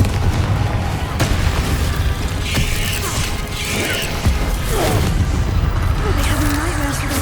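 Confringo explosion spell in Hogwarts Legacy: booming blasts and crackling impacts with mechanical creaks and clanks, loud and busy throughout, mixed with other game effects.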